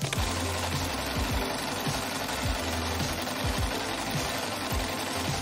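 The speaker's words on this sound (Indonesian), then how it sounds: "Pakai mesin jahitnya minta tolong orang dewasa aja." A sewing machine runs steadily as fabric pieces for a rainbow-colored craft are stitched together, a close rapid mechanical chatter with rhythmic needle thumps and no voices.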